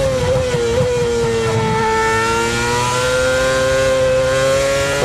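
Formula 1 car at the Malaysian circuit, its engine screaming loud and steady at full throttle with rising harmonic pitch as it pulls through the gears, close and continuous.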